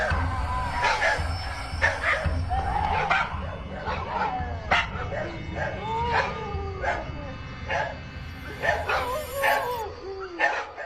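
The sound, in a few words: dogs barking in unison at night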